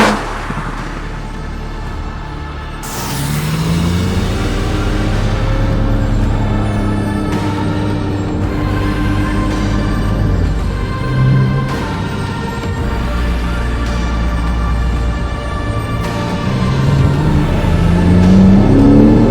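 A Porsche in sport mode accelerates hard through its five gears. The engine surges and revs up loudly, with rising pulls broken by brief gear-change dips, close and continuous, with no talking.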